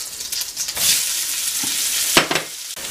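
Onions frying in a very hot pan with sugar, a loud, close hiss and sizzle that swells and crackles with a few quick stirring knocks.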